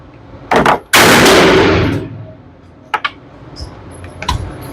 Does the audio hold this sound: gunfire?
yes